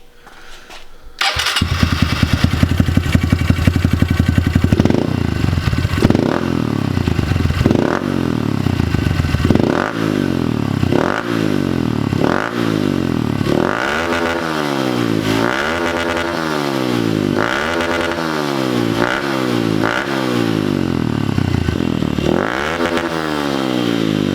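A Honda CRF110 dirt bike engine with a lightened aftermarket starter ring starts and idles roughly, then revs repeatedly in rising and falling surges, loud and close.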